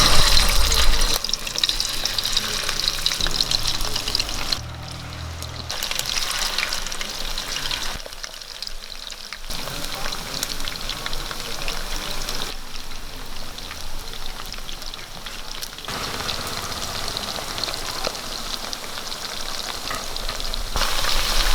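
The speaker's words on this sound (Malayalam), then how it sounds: "ഇപ്പം എണ്ണ ചൂടായിട്ടുണ്ട് ചിക്കൻ നമുക്ക് അതിലേക്ക് ഇട്ട് കൊടുക്കാം" Chicken pieces frying in hot coconut oil, a steady crackling sizzle with dense spitting that holds evenly throughout, fairly close and moderately loud, with brief dips as the pan settles.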